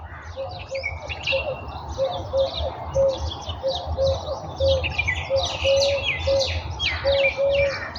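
A pet parrot calls while eating: short repeated chirps and brief tonal squawks in an irregular rhythm, fairly close against a low background rumble.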